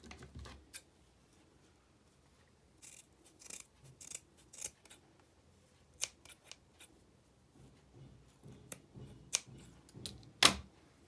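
Scissors snip through the cord of a wooden bead garland tassel, with a run of close, quiet, crisp cuts and small handling clicks between them.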